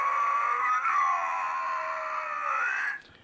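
Iron Giant toy robot letting out a long electronic scream, loud and close, holding a wavering tone for nearly three seconds before it cuts off sharply, with no talking.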